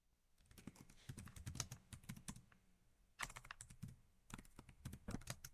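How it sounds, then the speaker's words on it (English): Rapid typing on a laptop keyboard, with bursts of clicking keystrokes separated by short pauses, close and fairly quiet with no talking. "immediately began typing on his laptop"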